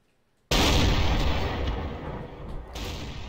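Loud sustained burst of simulated gunfire and booming from a Blucher Napoleonic battle game, starting abruptly and rumbling on with crackling bursts throughout, no talk over it.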